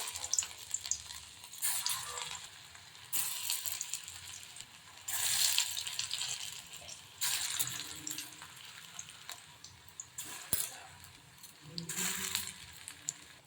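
Cabbage and cauliflower Manchurian balls deep fry in hot oil, with bursts of bubbling sizzle that swell and fade as more balls are added, alongside occasional clinks and splashes at moderate distance.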